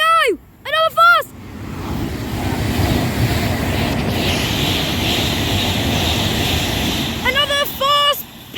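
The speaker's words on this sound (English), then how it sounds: "Another fast Pendolino!" A fast Pendolino train rushes past with a rising and falling roar, and excited voices speak over it at the start and end.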